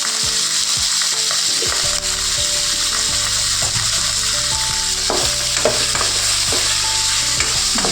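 Brinjal pieces fry with a loud, steady sizzle in a hot pan while a utensil stirs them, scraping and clattering in an irregular rhythm close by.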